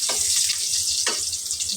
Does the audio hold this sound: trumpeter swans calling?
no